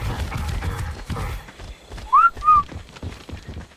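In ARK: Survival Evolved, two quick rising whistle notes call tamed creatures. They sound after heavy thudding footsteps and movement noise, and are loud and close for a moment before the footsteps resume.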